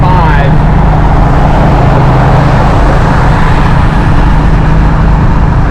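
Loud, steady engine and road roar from inside a car cruising at about 75 mph with the engine turning around 4,600 RPM, a continuous dense drone with no breaks.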